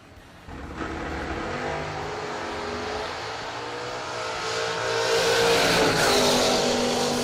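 Dragster cars racing on a drag strip at an annual Christmas bash event, a loud sustained engine roar that swells and grows louder toward the end, with broadband noise and no talk.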